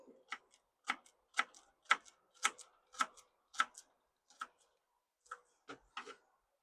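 Sharp knife chops on a cutting board while anchovies, sardines and shallots are prepared for pasta, about a dozen crisp, separate taps in an uneven rhythm, close and fairly quiet, with no talking.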